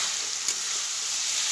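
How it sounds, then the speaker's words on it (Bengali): Fried eggs being added into a spiced masala in a pan, with a steady, loud, continuous sizzle of hot oil throughout and no voices. "এবার ভেজে রাখা ডিমগুলোকে দিয়ে দেব।"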